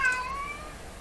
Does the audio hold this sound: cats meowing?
yes